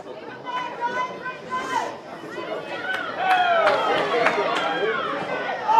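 Thousands of spectators at a women's rugby league match between Penrith Panthers and the Giants, a broad crowd murmur and chatter that builds louder toward the end, with a commentator talking over it.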